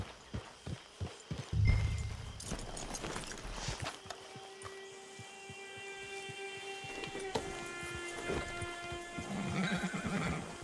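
A horse in Red Dead Redemption 2 Online whinnies loudly, with hooves clip-clopping nearby and faint ambient tones in the background.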